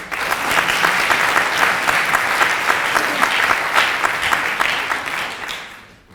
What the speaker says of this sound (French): Tous les applaudissements de la salle